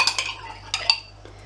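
Jam being stirred in a small bowl for a Victoria sponge, with a few sharp clinks and scrapes of a spoon against the bowl that come in separate bursts, close and fairly quiet, with no talking.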